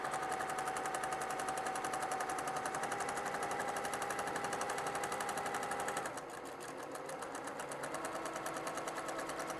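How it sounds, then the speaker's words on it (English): A sewing machine stitches quilt sashing at a quarter-inch seam in a fast, steady rapid-fire run of stitches, then stops abruptly partway through, leaving a faint hum. "I actually stitch it on and then trim it off"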